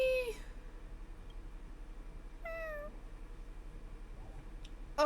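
Several cats meow in the Honkai: Star Rail video game, one call near the start, another around the middle and a short one at the end, over a steady low background hum.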